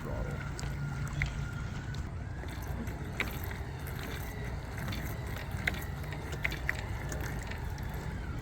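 A radio-controlled shark submarine boat runs through water at quarter throttle, giving a steady broadband wash with low motor hum and scattered splash spikes throughout, fairly faint and without voices.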